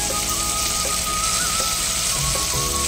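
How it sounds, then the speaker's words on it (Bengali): Prawns frying in a pan, a dense, loud, continuous sizzle close by with a few small pops and a faint steady hum underneath, no voices. "এই চিংড়ি মাছ ফ্রাই"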